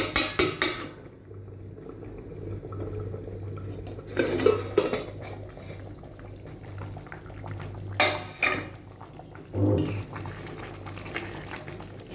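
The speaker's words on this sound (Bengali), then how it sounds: "এইবার ঢাকনাটা খুলছি।" A metal lid lifted off a pot of yogurt chicken cooking over a medium-low gas flame, with several clinks and clatters of cookware and a low steady hum in between.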